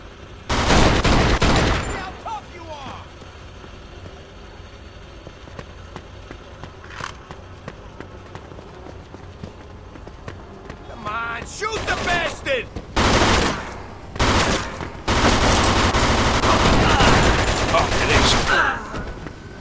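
Gunfire in a Mafia 2 shootout: loud sustained bursts of automatic fire open the scene, then sparse single shots, then heavy repeated bursts near the end, with game voices talking in between.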